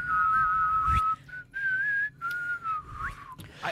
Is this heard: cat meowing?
no